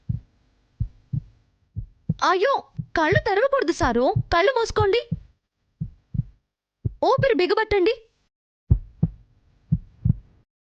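Heartbeat sound effect in a Telugu TV serial: slow, regular low thumps, some alone and some under a stretch of dialogue between two people.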